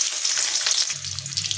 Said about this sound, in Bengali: তেলটা গরম করার পর একটা পেঁয়াজের বেরেস্তা ভেজে নিচ্ছি